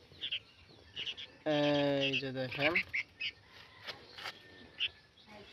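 A pet bulbul calls in short chirps and a longer run of harmonic, squawky notes near the microphone, with a person speaking softly around it.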